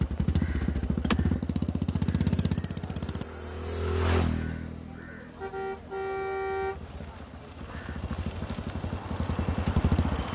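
A shared auto rickshaw rumbles with a steady, buzzing engine at close range in a film comedy street scene. A couple of short horn toots sound in the middle before the engine's chugging returns.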